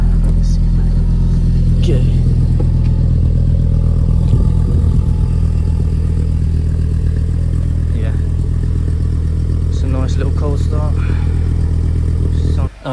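An Audi TTRS engine with the windows down during a car park run, a loud, steady, close drone that holds throughout with slight swells in revs, and a voice speaking over it near the end.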